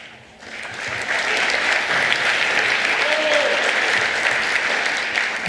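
An audience at a political speech in a theatre applauds, the clapping rising quickly after a quiet moment and holding as a dense, steady wash.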